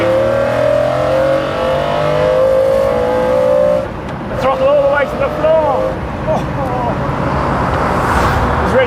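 A high-performance car's engine climbs steadily in pitch under hard acceleration, then breaks off sharply at a quick gear change and pulls again, loud and close throughout.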